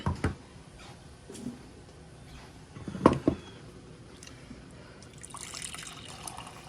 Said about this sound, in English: Let's pour it out into an actual cup.